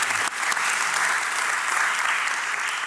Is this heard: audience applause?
yes